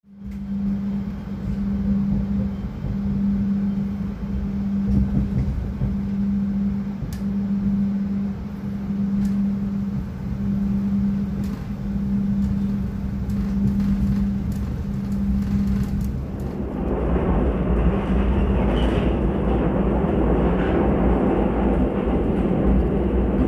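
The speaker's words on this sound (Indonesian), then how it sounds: "Kereta api Lodaya masuk stasiun Ciamis." Lodaya passenger train entering Ciamis station at night, heard from on board: a steady low hum with a regular pulsing rhythm from the carriage, then a louder, rougher rumble and screech as the train slows into the station.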